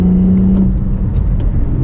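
Acura TL SH-AWD fitted with Borla Pro XS mufflers revs up nearby, a loud steady exhaust drone with a strong low hum that holds for the whole short burst.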